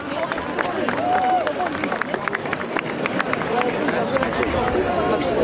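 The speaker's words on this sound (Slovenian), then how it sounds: "Bravo, en aplavz." Audience applause at a Fašenk carnival gathering, loud continuous clapping from a crowd with some cheering and babble mixed in, sustained at a steady level from start to end.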